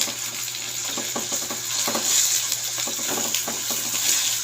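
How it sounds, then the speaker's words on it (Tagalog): Onion and pork sautéing in a pan for a Filipino-style spaghetti sauce, a constant bright sizzle with irregular scraping stirs, close and moderately loud. "Gisahin na natin ito. Lagyan natin yung onion."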